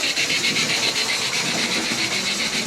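An OO gauge Royal Scot model locomotive, unserviced with only its motion and axles lubricated, runs with a steady, continuous whirring and buzzing hum and faint rhythmic pulsing, close and fairly loud throughout.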